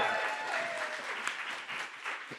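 Audience applause for a panelist at a multicultural producers roundtable, a steady burst of clapping with some cheering that fills the room and runs throughout.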